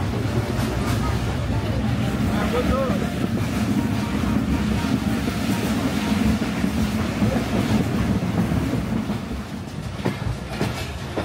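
Bangladesh Railway's Rupsha Express passenger train running between Khulna and Joypurhat, heard from inside as a constant loud rumble with rhythmic clickety-clack of wheels and wind noise, easing slightly near the end.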